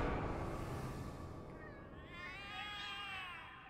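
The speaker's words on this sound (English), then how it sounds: "The cats are alarming." Cats meowing in alarm from indoors, a drawn-out wavering cry that rises and falls over a steady background, fairly loud and close with no talking.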